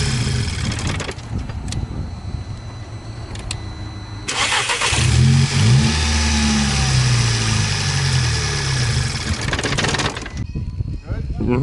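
A 2012 VW GTI fitted with an Injen Stage 2 intake cranks and fires at about four seconds, then settles into a loud, close idle with rising revs and a throaty, broadband intake roar that holds steady before cutting off. Brief talk precedes the start.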